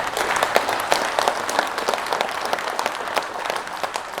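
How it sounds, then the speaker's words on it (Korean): Audience applause at a Korean book concert honoring a composer, a dense, steady wash of many hands clapping from a sizable crowd with no talk over it. "감사의 마음을 담아 여러분의 큰 박수 부탁드립니다"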